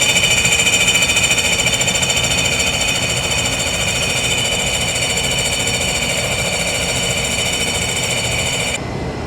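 A diamond grinding wheel cuts steadily while the motorized workhead stays still, giving a loud, continuous high whine with a rough, vibrating buzz underneath that stops abruptly near the end.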